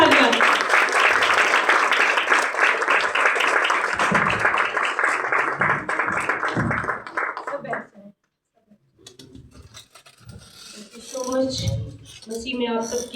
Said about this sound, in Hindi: आपकी भरपूर तालियों में। जोरदार तालियां।